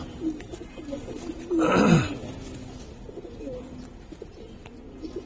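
A Giribaz pigeon gives a short, close coo with a brief flurry of sound near the start, then quiet background.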